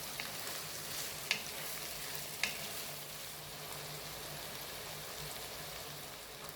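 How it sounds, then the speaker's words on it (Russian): Steady sizzling of vegetables frying in a hot pan, close and continuous, with a couple of light clicks of utensils. "Теперь все это хорошо обжарим 3-4 минуты."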